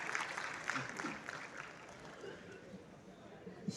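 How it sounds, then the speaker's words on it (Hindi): A crowd claps in a faint, steady patter of applause at a school annual day function, heard from a distance with some murmuring underneath. "आइए हम सभी गर्मजोशी से तालियां बजाकर"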